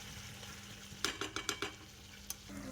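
Spiced masala for a chicken and potato curry cooking in a kadai, with a faint low sizzle and a quick burst of five or six spoon scrapes and knocks against the pan, then one more clink.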